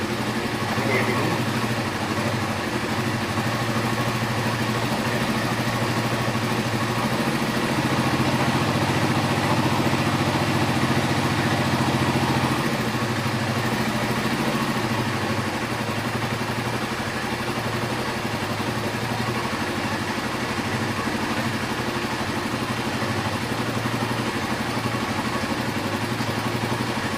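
A warmed-up Suzuki GSX-R150 motorcycle engine idles steadily during a throttle body service, a continuous close mechanical hum and clatter that holds an even pace throughout with no talking.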